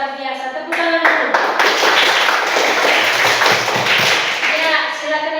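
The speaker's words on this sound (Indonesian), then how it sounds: "tepuk tangan dulu" Children in a classroom clap their hands together in a dense, lively burst of rapid claps lasting several seconds, close and loud, with a teacher's voice heard briefly before and after.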